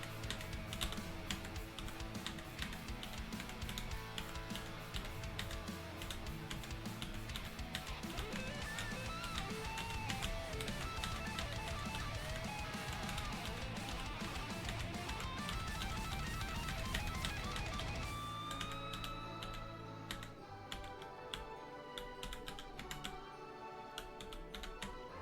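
Fast continuous typing on a physical computer keyboard, dense clicking keystrokes close by under music, thinning out near the end.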